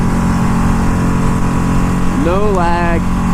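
A 200hp superbike engine holds a loud, steady drone, then rises and falls in pitch through a quick-shift gear change near the end.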